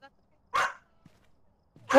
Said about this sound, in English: I just got jump scared by someone's dog.